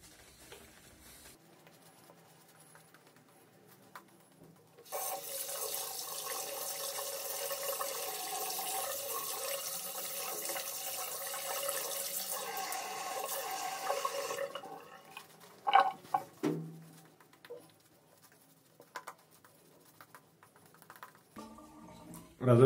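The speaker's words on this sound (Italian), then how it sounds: "Rasoio sciacquato e procediamo." Shavette razor rinsed under a running tap, a steady hiss of flowing water for about ten seconds, followed by a few close drips, knocks and clatters in a quiet bathroom.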